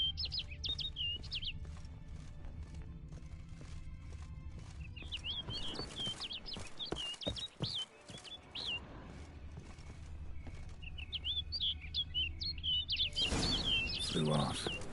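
Small bird chirping in repeated quick twittering bursts in The Witcher 3 Wild Hunt, set against a low steady ambient rumble with soft footsteps and hoof clops, fairly near and clear.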